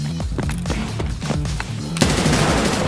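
Heavy gunfire in Escape from Tarkov, a rapid run of loud automatic shots close by, followed by a sharper burst near the end, with no talk over it.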